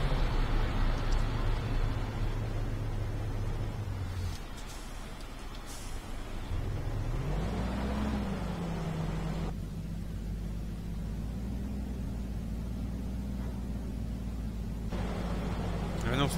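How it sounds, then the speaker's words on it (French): Engine of a MAN truck with a small motor in Euro Truck Simulator 2, a steady low drone that shifts pitch as the truck eases forward, with a brief hiss partway through and talk over it. "bah oui. Petit moteur."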